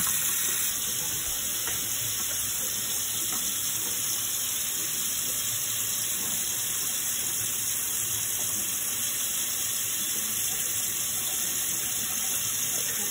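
Cooked Samyang 2x spicy fire noodles drained into a kitchen sink, a steady close rush and splash of water running throughout at moderate level, with no speech.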